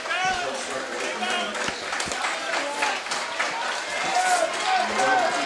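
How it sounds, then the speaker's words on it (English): Baseball crowd at War Memorial stadium under the lights cheering and applauding steadily through a high school game, a broad sustained roar with scattered claps and voices, moderately loud and continuous throughout. "Crowd gets hype here at War Memorial"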